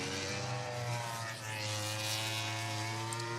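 A MotoGP motorcycle at the Aragon Grand Prix qualifying, its engine droning steadily from a distance with a brief dip before the rider opens the throttle again and the pitch climbs back.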